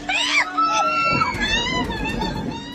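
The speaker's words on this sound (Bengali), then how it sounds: "চলন্ত ট্রেন দরজার বাইরে দুহাতে ঝুলে থাকা এক ব্যক্তি আতঙ্কে চিৎকার" A man hanging by both hands outside the door of a moving train screams in panic, high-pitched and wavering, while other voices shout nearby; loud and close.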